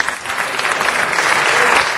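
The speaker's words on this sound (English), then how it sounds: "Give her a round of applause for that." A city council meeting audience claps in a brief, full burst of applause, many hands close and loud, sustained evenly for the whole moment without any voices.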